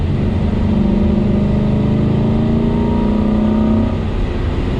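A Chevrolet C8 Corvette accelerating uphill at Spring Mountain race track, a loud steady engine drone with a slowly rising pitch as the throttle opens, close and continuous without speech.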